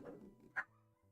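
A dog lets out a single sharp bark, loud and fairly close, in an otherwise quiet indoor room with a low steady hum around it.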